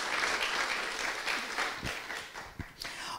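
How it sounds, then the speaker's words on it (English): An audience at a keynote event applauds an organizer, a full burst of clapping that starts strong and gradually thins out, with a few sharp individual claps near the end. "Please a round of applause to Meg for making all of this really happen."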